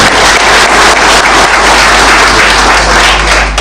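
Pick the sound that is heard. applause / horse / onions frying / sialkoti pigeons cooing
applause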